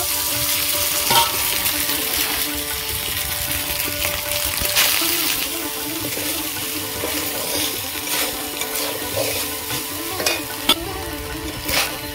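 Rice added to a pan of lightly fried ginger paste for vegetarian fried rice, with steady loud sizzling and scraping stirs throughout and no talking.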